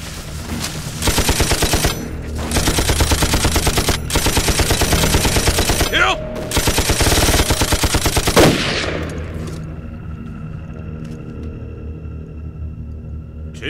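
Machine guns fire in three long, rapid bursts in a Sino-Japanese war drama, loud and close, before the shooting stops and a quieter rumble lingers.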